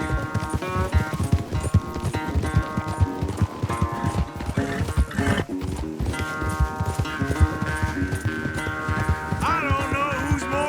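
Horse hooves gallop in a fast, driving clip-clop during a race in Red Dead Redemption 2, the steady hoofbeats running under loud game music.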